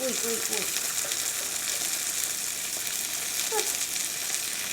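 Mushrooms sizzle and fry in a hot pan, a steady, loud crackling hiss that runs throughout, with brief voice fragments over it.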